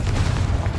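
Confringo fire spell exploding in Hogwarts Legacy, a dense low booming blast that fills the whole moment, loud and close with a rumbling tail.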